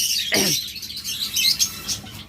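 Pet lovebirds for sale, a breeding pair, chatter in shrill, high chirps and tweets, with one brief swooping call near the start among continuous nearby twittering.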